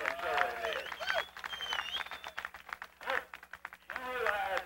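A crowd claps and cheers at I-30 Speedway, the applause swelling and fading in waves while an announcer speaks loudly over it.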